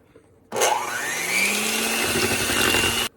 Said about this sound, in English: We're going to mix this together until it's mixed really good.